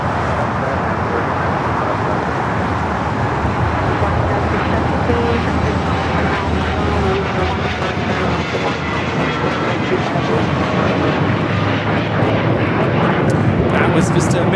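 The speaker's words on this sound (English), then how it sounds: "That was Vista America 508 taking off to Las Vegas on the Challenger 300" A Vista America Challenger 300 business jet takes off from Los Angeles airport bound for Las Vegas, producing a broad, sustained engine roar heard alongside a person talking.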